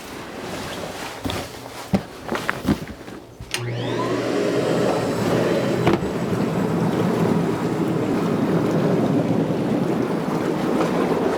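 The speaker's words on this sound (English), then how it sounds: "Inaugural run of the wash station here. Arugula going in the bubbler." Bubbler wash station for washing fresh-harvested arugula greens starts with a few knocks and clatters, then settles into a loud, steady rushing roar of air bubbling through water that continues to the end.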